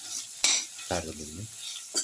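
A spoon stirs beef casserole mixture with ground basil in a pan: short scraping, clinking strokes come in separate bursts over a faint sizzle, close and fairly quiet, with no talking.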